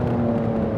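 A 3.8-litre twin-turbo flat-six sports car of about 700 horsepower, carbon-fibre bodied, holds a steady, loud engine drone in Forza Horizon 4, a constant tonal hum running through the whole short moment.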